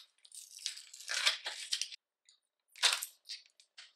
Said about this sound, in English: I'm already ripping the packaging.